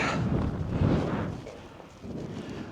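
Steady wind buffets the microphone with a low rumbling roar that eases slightly midway, with no talking, on the Northern Fells.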